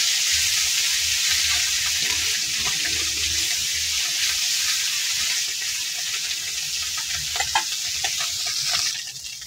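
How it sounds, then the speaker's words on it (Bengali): Puti fish frying in a pan of oil, giving off a steady, bright sizzle with occasional stirring and a few sharper pops, tapering off near the end. "এই মাছটি ভাজা হয়ে গেছে"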